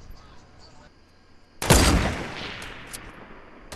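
Gunfire in a Fortnite match, faint at first, then a sudden loud burst of shots followed by a decaying rumble and scattered further fire.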